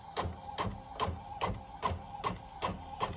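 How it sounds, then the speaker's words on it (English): An Epson 7710 inkjet printer running an 11 by 17 sheet, with about eight evenly spaced mechanical clacks as the carriage shuttles back and forth, steady and close over a low motor hum. "I am using the Epson 7710 printer. I am printing an 11 by 17 sheet of paper on this."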